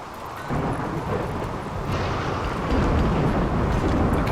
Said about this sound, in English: It sounds like there's a storm coming in.